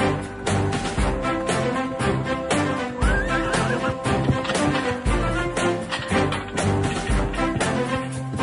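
A horse whinnies and neighs over a busy, loud background with repeated sharp bursts, with no talk in between.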